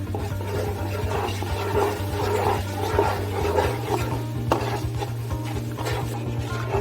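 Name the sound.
stirring sugar syrup with cardamom in a pan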